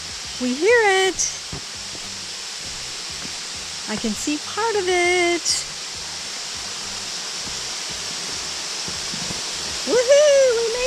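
Tioga Falls waterfall on a nature trail gives a steady, soft rushing hiss in the distance, running under short bursts of people talking.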